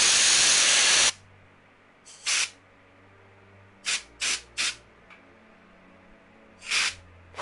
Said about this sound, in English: I'm spraying this, by the way, if y'all hear something.